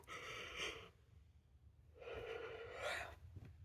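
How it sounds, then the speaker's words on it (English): A person yawning twice, each a long breathy exhale with a pause between, close and fairly quiet. "Yawn."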